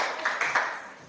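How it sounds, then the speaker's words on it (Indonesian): Classroom pupils clap a few times after a teacher's praise: three short, soft, evenly spaced bursts, then quiet room tone. "Tepuk tangan."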